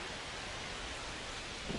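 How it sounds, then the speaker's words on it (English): Rain falls over a ballpark in MLB The Show 25 as a steady, even wash of hiss with no breaks, fairly quiet and uniform throughout. "This rain is not letting up."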